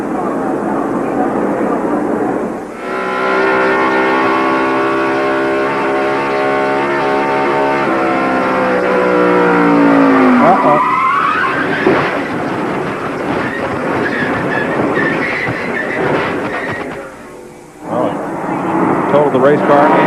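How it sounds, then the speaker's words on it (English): A 1993 NASCAR stock car engine roars from an in-car camera, a loud sustained drone with shifting pitch and rushing wind, with a broadcast voice talking over it. "Let's have a look from in-car, from Jeff Gordon's car. Watch and listen"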